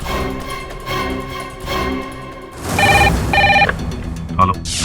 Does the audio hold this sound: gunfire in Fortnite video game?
no